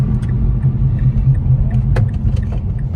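A Mazda Speed 3 with a newly installed turbo runs under boost, giving a steady, close engine rumble with a few faint clicks and rattles.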